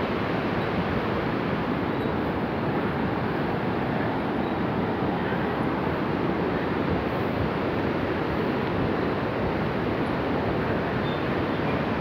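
The Bhotekosi river rushes far below a high bungee bridge in Nepal, a steady, dense roar of turbulent water mixed with wind buffeting, unbroken and loud throughout with no voices.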